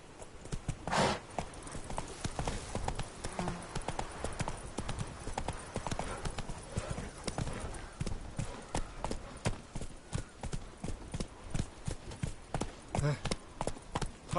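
Geralt's horse Roach gallops in The Witcher 3: Blood and Wine, a steady rapid clip-clop of hooves running throughout, close and prominent, with game sounds and a voice over parts of it.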